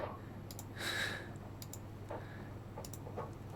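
Computer mouse clicks at a desk, a few sharp, quiet taps spaced irregularly over a low steady hum, with no one speaking.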